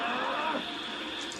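A cow moos in a long, drawn-out low call from the cow cannon attack in the Dragon Ball Z Budokai Tenkaichi 3 video game, loud and close, fading over about a second.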